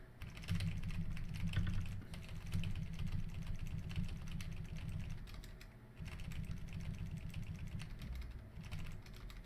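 Computer keyboard keys clatter in a steady, dense stream of rapid presses, close and continuous, with a faint low hum underneath and a short pause around the middle.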